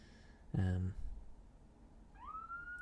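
An ambulance siren rises into a wailing tone from a distance outside, faint at first and growing steadier, after a brief loud vocal sound near the start.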